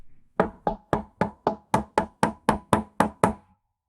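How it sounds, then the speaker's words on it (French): Hollow knocks land on the wooden door of a small cabin, about a dozen sharp raps in a fast, even rhythm. They are close and loud, with no voices. "Inspirant profondément, il s'approcha de la porte et frappa 3 fois."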